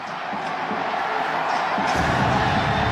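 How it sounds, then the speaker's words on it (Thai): Thai football fans cheer in a stadium during a Taiwan versus Thailand World Cup qualifier, a steady broad crowd roar that swells slightly near the end, heard at a distance without clear individual voices. "โอ้เสียงแฟนๆที่ ไปเชียร์ที่นั่นแฟนชาวไทยก็ไปกันไม่น้อยนะครับ"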